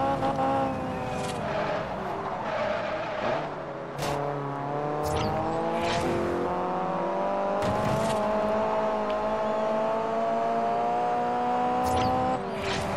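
A car engine in the racing video game Forza Horizon revs and races continuously, with rising and falling gear-shift tones, loud and steady throughout with brief sharp bursts and tire noise, with no talk.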